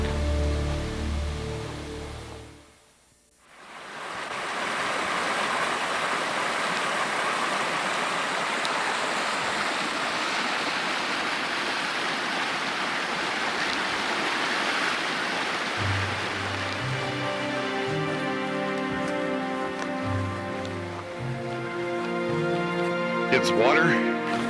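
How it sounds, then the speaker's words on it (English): A mountain stream rushes along a High Sierra hiking trail toward Horton Lake, a steady loud wash of water that fills the clip, with brief tonal sounds or muffled voices near the start and toward the end. "It's water."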